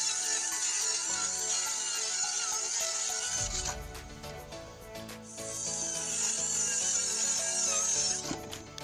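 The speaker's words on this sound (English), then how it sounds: "Enjoy watching the old man assembling everything and cutting the plywood." A power saw cuts plywood for a home ramp, a loud continuous rasping whine that dips into a lower, heavier grind midway before resuming its high, steady cutting tone.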